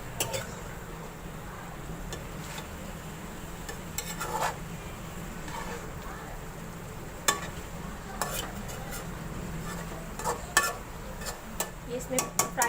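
Garlic and ginger frying in a pot, stirred with a metal spoon; a low steady sizzle beneath repeated scraping and clinking against the pan, growing busier toward the end, no speech.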